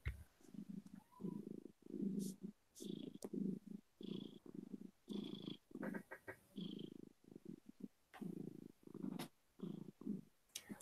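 A black cat held up close to the camera purrs steadily, the low rumbling pulses rising and falling in a continuous rhythm for about ten seconds, loud and near with no talk over it.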